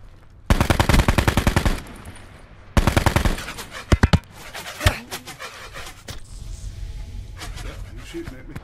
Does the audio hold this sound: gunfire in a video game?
yes